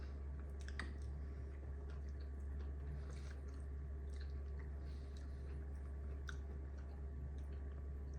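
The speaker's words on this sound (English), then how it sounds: "Going in for another bite." Soft, close chewing of a bite of old-fashioned custard pie with a folded-egg-white topping, quiet wet mouth sounds and faint clicks over a steady low room hum, with no talk.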